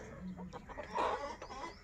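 Hens and chicks cluck softly and continuously in a farmyard flock, several birds overlapping in a quiet, steady chatter.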